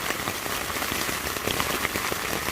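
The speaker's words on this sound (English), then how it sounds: "still raining." Steady rain patters on a tent on a cold night, a dense close hiss of drops with scattered louder taps, no voices.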